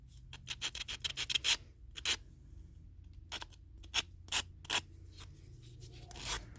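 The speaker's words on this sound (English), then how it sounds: "You see how it sands? It is very sandable." A cured piece of quick-curing resin is sanded by hand in a series of close, crisp scratchy strokes, some rapid and clustered, others single and spaced apart with short pauses between.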